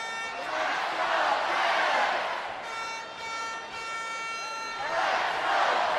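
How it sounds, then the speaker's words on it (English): A festive, boisterous crowd roars in a Pittsburgh arena during an Islanders at Penguins hockey game, a loud sustained swell of cheering with horn-like tonal blasts mixed in. "this is a festive crowd, a very boisterous crowd here in Pittsburgh tonight"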